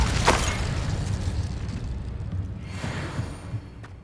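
Incendio fire spell cast in Hogwarts Legacy, a short whooshing burst of flame with a low rumbling roar that trails off over a few seconds.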